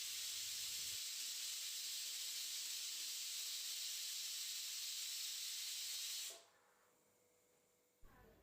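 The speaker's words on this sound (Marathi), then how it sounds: "कुकरचं झाकण लावूयात, गॅसची फ्लेम फुल करूयात आणि 3 शिट्ट्या काढून घेऊयात" A pressure cooker on a full gas flame steadily hisses out steam for about six seconds, loud and continuous, then the jet cuts off abruptly to a quiet kitchen before a brief sharp knock near the end.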